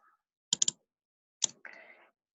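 Quick computer mouse clicks select a file on a desktop: a tight burst of three sharp clicks, then a single click and a short soft rustle, all close and quiet with no talking.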